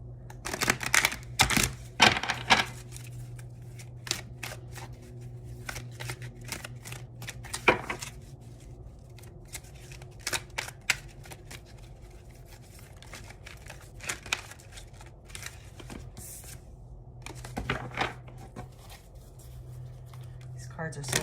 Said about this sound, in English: Cards are so hard to shuffle.